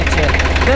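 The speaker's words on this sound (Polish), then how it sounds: "Trzycylindrowy silnik." A 1965 Deutz D40 tractor's three-cylinder diesel engine with a Bosch injection pump idles close by, a loud, even, low knocking throb, with a voice briefly heard over it.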